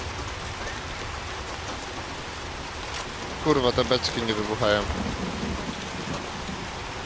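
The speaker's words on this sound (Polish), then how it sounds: "Pada za mocno." Heavy rain falling in the video game Hunt: Showdown, a constant dense hiss throughout, while someone speaks briefly over it in the middle.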